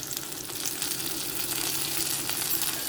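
Okra pieces fry in oil in a cast iron kadai, giving a steady, dense crackling sizzle that stays loud and even throughout, with no voices.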